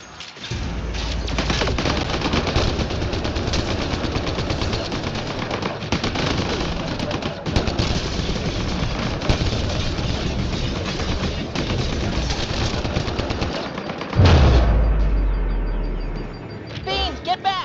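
Sustained automatic gunfire from a sci-fi shooter battle against turrets, dense overlapping bursts over many seconds with a louder, heavier blast near the end and a voice speaking briefly amid the combat.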